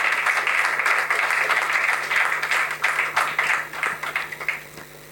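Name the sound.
audience applause at award ceremony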